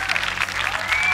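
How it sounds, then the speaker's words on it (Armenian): At a televised gala show, a studio audience claps in a dense, steady burst, loud and close, with a voice faintly audible over it. "Ջերմ ծափահարում են Գորին"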